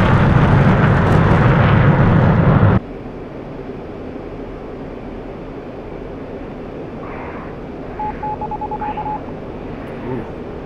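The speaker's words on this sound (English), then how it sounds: "Beeps fast when you're pulling way too hard there." An F-15C cockpit over-G warning from the flight simulator DCS World, a short run of rapid, evenly spaced electronic beeps heard faintly over steady engine and cockpit rumble after a loud roaring stretch.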